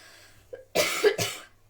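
Two sharp, close coughs in quick succession, preceded by a short throat sound.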